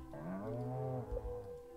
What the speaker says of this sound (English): Cows are looking fine.